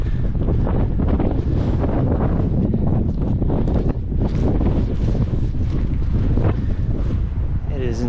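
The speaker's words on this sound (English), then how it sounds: "It is insanely windy right now" Strong gusts at an outdoor site of a 1960s train derailment buffet the microphone in a loud, continuous roar that swells and dips with the wind for the whole stretch.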